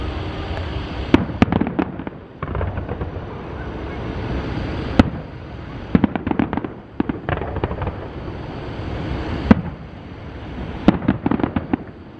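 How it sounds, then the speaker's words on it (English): Star Wars fireworks at Hollywood Studios boom and crackle from a distance, a series of sharp bursts and rolling thuds spread irregularly over an outdoor night ambience. "The Star Wars fireworks have just started."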